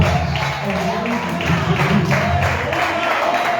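A church congregation applauds together, a steady wash of clapping under music and background voices, sustained across the moment without a clear break.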